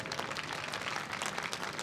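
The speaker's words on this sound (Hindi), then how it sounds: "अब इसके लिए आप जोरदार ताली बजा दीजिए" An audience at a Hindu religious discourse (katha) bursts into loud applause, a dense, steady wash of many hands clapping that fills the whole moment with no voices over it.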